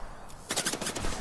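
Gunfire in the video game Apex Legends, a rapid automatic burst that breaks in sharply after a quiet moment, loud and close.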